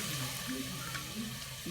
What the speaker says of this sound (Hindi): यहाँ पे हम पानी डालेंगे 3 गिलास।